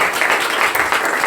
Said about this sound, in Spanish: Le damos una fuerte ofrenda de palmas a nuestro buen Dios.